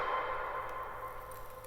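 A reversed sample with a shimmering icy effect layered beneath swells in a sustained, bell-like wash, fairly loud and steady throughout, with no talking.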